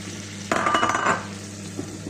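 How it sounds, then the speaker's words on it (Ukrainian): A spoon scrapes and clinks against a pan in a short burst of stirring flour into melted butter over low heat, with faint sizzling underneath. "На маленькому вогні постійно помішуючи, будемо його так типу заварювати нашим вершковим маслом."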